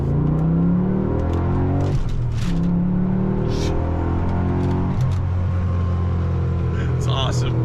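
A Lamborghini Murcielago accelerates hard, its engine note climbing loudly through the revs, dropping at a gear change and rising again, with a person talking over the roar.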